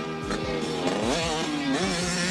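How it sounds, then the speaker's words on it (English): A Honda CR60R mini motocross motorcycle's small two-stroke engine buzzes loudly and closely, its raspy pitch climbing and dropping through quick throttle changes. "The CR80 and CR60, two mini motocross machines from the biggest name in motorcycling."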